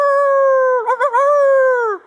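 A Jack Russell terrier lets out a single close, loud howl lasting about two seconds, steady at first and then wavering briefly in the middle before trailing off.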